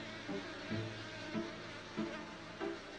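Honeybee workers crowded together on a honeycomb give a steady, dense insect buzz, and a few louder hums swell over it at a fairly regular pace.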